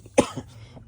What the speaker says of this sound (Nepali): खोकी लाग्छ के अरे अब